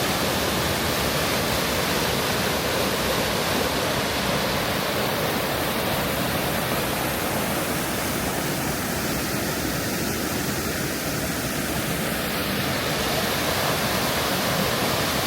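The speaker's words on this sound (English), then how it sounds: "Waterfall." Waterfall at the ruins of Great Falls Mill, a steady, dense roar of falling water filling the whole stretch, constant and fairly close with no voices.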